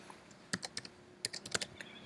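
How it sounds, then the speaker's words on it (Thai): Someone types on a computer keyboard while writing code, producing quiet, irregular key clicks in short bursts, close up over a faint steady background hum. "แล้วก็พิมพ์คำประกาศตัวแปรที่ชื่อว่า"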